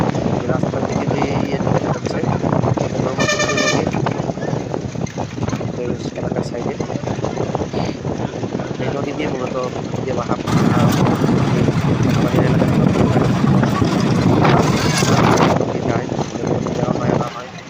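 A motor trawler boat chugs along steadily with wind buffeting the microphone and water rushing past; a voice talks intermittently over the continuous engine drone.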